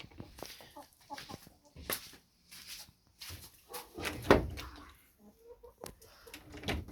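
Scattered clucks and short squawks from chickens close by, with bursts of knocking and shuffling between them.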